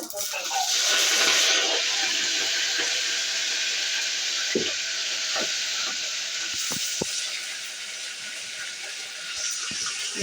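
Mustard seeds, cumin and curry leaves sizzle loudly in hot oil for a tempering for tomato drumstick charu, a steady bright hiss running throughout with a few sharp pops and crackles.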